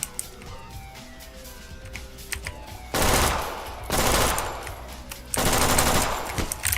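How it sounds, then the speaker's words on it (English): Video game gunfire from an enemy shooting at the player, three long loud automatic bursts separated by short pauses, with quieter game sounds beneath. "he's gonna shoot me and I can't shoot him back"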